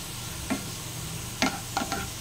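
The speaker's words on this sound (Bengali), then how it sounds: "পেঁয়াজটা লাল লাল করে ভাজা হয়ে গেছে বেরেস্তা" Onions fried to a deep brown sizzle in a pan, a steady close hiss broken by three or four sharp scraping stirs of a spatula, with no talk.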